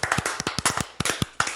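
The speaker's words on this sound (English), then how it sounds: "you're allowed to clap for yourself" A small group of people clapping, a quick run of sharp, close hand claps at an uneven rhythm, loud and distinct with no speech over them.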